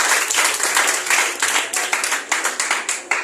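A church congregation claps loudly and together during worship, a dense, close burst of many hands keeping a brisk, pulsing rhythm with no speech over it.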